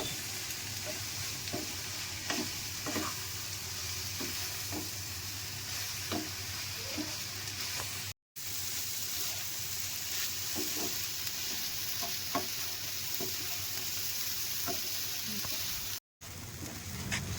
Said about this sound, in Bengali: দেখুন প্রায় অনেকটাই ভাজা ভাজা হয়ে গেছে।